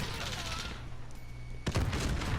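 A submachine gun fires in Call of Duty: Modern Warfare, a rapid burst crackling in loud near the end after quieter background noise.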